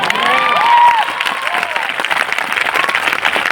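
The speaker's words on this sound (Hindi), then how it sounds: "मुझे लगता है आप में से कोई कोई तो खड़े होकर ताली बजाएगा।" An audience at a church sermon breaks into loud, sustained clapping and cheering, with whoops and raised voices rising over the applause before it thins into scattered claps.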